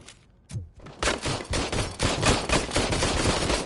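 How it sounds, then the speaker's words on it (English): Rapid gunfire cracks at a shooting range in RoboCop: Rogue City. Two sharp shots come first, then a sustained burst of close, loud, overlapping shots. "let's try the shooting range again"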